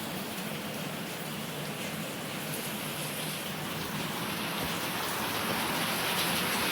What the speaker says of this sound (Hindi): बारिश इतना तेज हो रही है